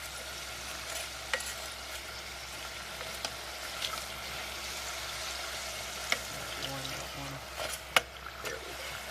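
Beef empanadas sizzle steadily in fresh frying oil, a continuous close hiss with occasional sharp pops and crackles throughout, and a faint voice talks underneath.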